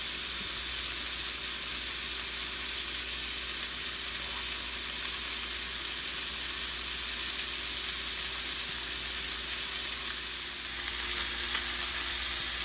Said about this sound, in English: We're just going to put the burgers on, seasoning side down.